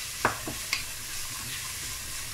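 Salted vegetables for fried rice stir-fry on high flame with a close, steady sizzle, punctuated by a couple of quick clicks of a spoon against the pan.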